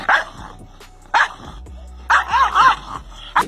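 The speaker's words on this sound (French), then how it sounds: "Asseyons-nous et regardons ce chien s'aboyer dessus." A dog barks at its own reflection in short sharp bursts, one bark, then another, then a rapid cluster of three, loud and close.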